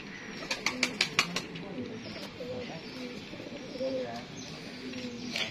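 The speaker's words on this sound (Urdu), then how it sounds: "50-60 سال پرانے کبوتر ہیں۔ بیسکلی ہے تو سیالکوٹی، ان کو گرین نائٹ کہتے ہیں۔" Aged Sialkoti Green Night pigeons coo in low, rolling phrases that repeat steadily throughout, with a few sharp clatters near the start and a faint voice in the background.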